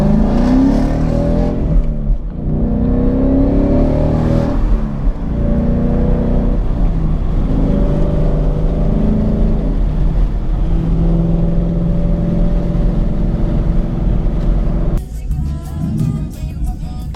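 A 2003 Ford Mustang Mach 1 with full bolt-ons and a stock 2015 Mustang GT race, loud V8 engines revving and pulling hard through gears with rising and falling pitch, close and continuous.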